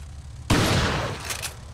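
A shotgun blast in Resident Evil 4, one loud sudden report that booms and then trails off over about a second, with a faint metallic rattle near the end.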